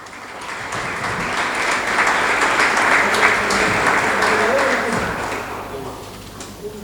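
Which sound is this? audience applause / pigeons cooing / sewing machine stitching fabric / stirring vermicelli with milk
audience applause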